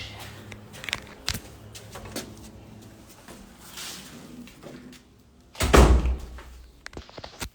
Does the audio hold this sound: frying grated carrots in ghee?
no